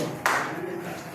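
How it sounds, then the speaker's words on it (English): A group of participants delivers a single sharp power clap in unison during a risk-awareness session. The one crisp burst is followed by a short decaying room tone and faint background sound. "Can we please go back to the power clap for ourselves, please?"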